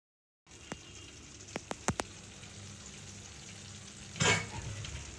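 Carrot halwa with ghee, malai and khoya cooks in a pan, giving a steady, soft sizzle with a few sharp taps of stirring and a brief louder scrape near the end. No voices.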